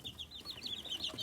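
Several backyard chickens cluck and chatter in quick, uneven bursts, a busy flock close by with soft rustling underneath and no talking.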